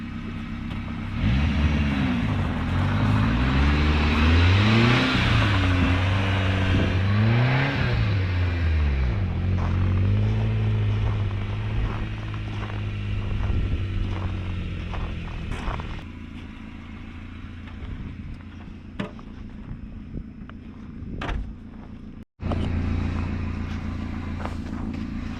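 A Subaru Sambar mini truck drives through snow, its small engine rumbling and revving up and down close by for about fifteen seconds, then easing to a quieter idle with scattered clicks and crunches.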